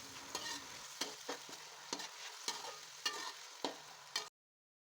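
Sliced onions frying in oil in a pan, stirred as whole spices like cumin, cinnamon and cloves go in, for aloo matar pulao: steady close sizzling broken by regular scraping stir strokes, with no voices.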